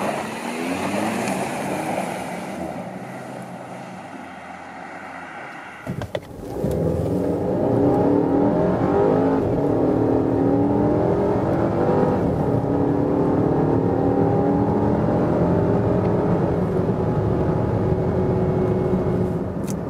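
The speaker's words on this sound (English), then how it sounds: "So that was the acceleration test here of the petrol engine." A Volvo XC90 T6 Inscription with a 320 hp petrol turbo engine accelerates hard, its engine note swelling into a loud, continuous rising drone after a brief quieter stretch at the start.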